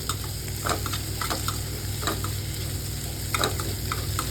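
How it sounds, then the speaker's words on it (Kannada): Chopped tomatoes fry in hot oil for egg burji, giving a steady close sizzle broken by repeated stirring scrapes and clicks of a spoon against the pan, with no voices. "ಚೆನ್ನಾಗಿ ಫ್ರೈ ಆಗಲಿ ಟೊಮೆಟೊ"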